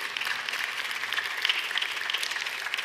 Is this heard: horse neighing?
no